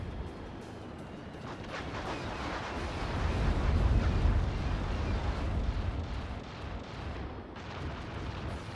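Artillery and explosions in the Act of Aggression strategy war game, with Puma vehicles returning fire, build into a dense rolling rumble of overlapping booms and crackles that swells midway and then eases to a steady distant roar.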